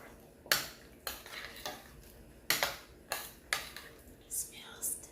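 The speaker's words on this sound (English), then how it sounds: "Let's stir it some more." Spoon stirring tomato basil soup in a pot, a series of close scraping clinks against the metal sides at an uneven pace, with quiet sounds in between.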